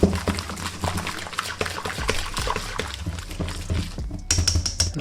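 Batter of egg, soda water and flour being stirred in a bowl, a continuous wet clicking and sloshing of the utensil against the bowl with a steady, busy rhythm.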